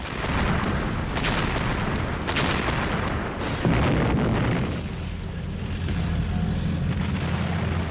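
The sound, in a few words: heavy artillery firing at a building at point-blank range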